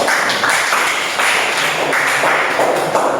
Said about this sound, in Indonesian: belum makan tepuk tangan dulu